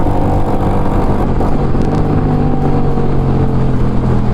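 A Musatti Dark Pow 250cc chopper motorcycle cruising in sixth gear at about 95, its engine a steady, loud, continuous drone with wind rush and no speech.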